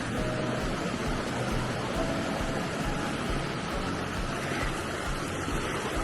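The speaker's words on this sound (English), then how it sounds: "I love the sound of the water" A mountain stream flows steadily near the Els Pessons lakes at Grau Roig in Andorra, a close, continuous broadband rush of water with no voices over it.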